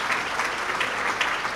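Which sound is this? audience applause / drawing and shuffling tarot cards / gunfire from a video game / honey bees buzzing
audience applause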